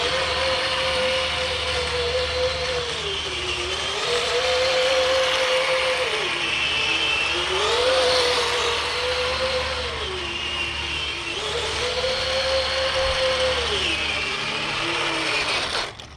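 A Ripsaw drift RC tank running on a 3S lipo with upgraded electronics, giving a steady electric motor whine that rises and falls in repeated smooth sweeps over a continuous mechanical rumble, close and fairly loud, without talking.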